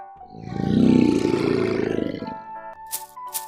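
A lion lets out one long, deep, loud roar that swells and then trails off, followed by a few light clicks and soft tones.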